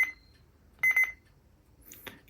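A Reizen talking atomic travel clock sounds its alarm: short, bright electronic beeps in two bursts, a single tone and then a quick triple pulse, close and clear, followed by faint handling noise.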